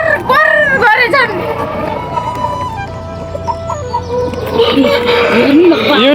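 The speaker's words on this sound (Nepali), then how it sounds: "कुखुरा हेर्नु भाले बासेर कोर कोर कोर गरेछन्।" Roosters crow repeatedly amid clucking hens at a crowded poultry farm, rising and falling calls near and far, with people chattering in the background.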